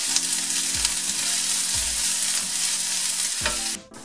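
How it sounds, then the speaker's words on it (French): Onions sautéing in a pan over medium heat, a loud, constant sizzle with periodic low scraping stirs, no voices, cutting off at the end. "je vais revenir les oignons à feu moyen jusqu'à qu'ils soient tendres"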